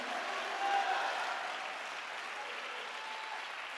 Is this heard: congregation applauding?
yes